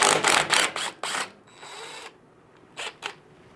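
An impact-style power tool rattles in several short, loud bursts while removing the 14mm lower shock bolt on a Yamaha T7 motorcycle during a Tractive suspension install, with brief pauses and a mechanical whir between bursts.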